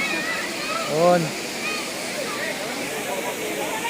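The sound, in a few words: Cambugay Falls waterfall, Siquijor Island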